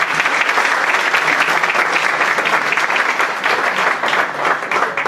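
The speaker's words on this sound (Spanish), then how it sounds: "el aplauso es para ustedes" Steady, dense applause from a forum audience at an event on consumer law in Colombia, filling the whole stretch loud and close without letting up, with no speech over it.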